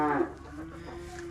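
Chickens on a farm cluck briefly, a short close vocalization at the start followed by a faint steady tone in a quiet background.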